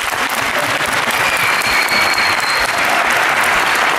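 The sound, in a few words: audience applause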